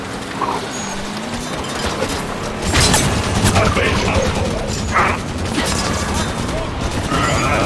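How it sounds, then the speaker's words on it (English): Gunfire in Halo 5: Guardians, with rapid mechanical bursts and clattering shots layered over dense battle noise, loud and continuous, while voices shout under the combat. "Returning fire!"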